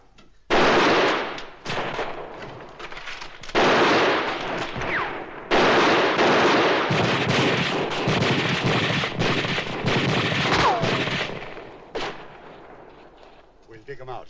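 Rifles and guns fire in a canyon gunfight, loud rapid bursts of shots and volleys that come in long stretches with brief pauses between them.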